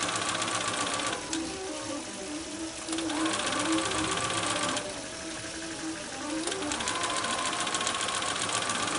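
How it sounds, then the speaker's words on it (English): Sewing machine running in bursts as it stitches along a curved quilt-block seam, a steady mechanical whirr that pauses briefly twice while the presser foot is repositioned; close and fairly loud, with no talking. "I'm going to continue doing that until I've sewn all the way down my curve"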